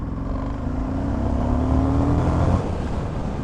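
An Indian FTR 1200 motorcycle engine revving up from low speed, a loud close growl with a rising pitch sweep, steady and continuous with no talk.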